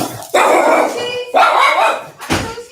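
Dogs kept in a room bark in three loud, close bursts, each a sharp bark trailing into a longer growly yowl, with short gaps of quiet between them.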